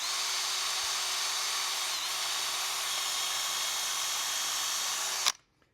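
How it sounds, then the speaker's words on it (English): A power drill drilling a pilot hole whirs steadily at high speed for about five seconds, loud and close, then stops abruptly. "once you drill that pilot hole"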